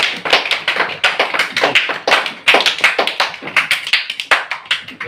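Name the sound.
children clapping hands at an anganwadi centre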